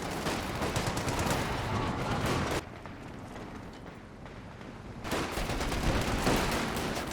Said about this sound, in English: .50 cal now.